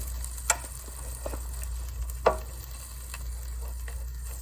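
A tortilla folded in half cooks in a hot pan with a steady low sizzle and frying hiss, broken by a few faint ticks and light taps, close by and with no talk.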